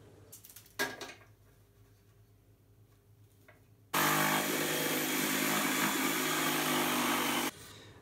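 A few brief knocks and scrapes, then a loud jigsaw snarls steadily through beech wood for several seconds before cutting off abruptly.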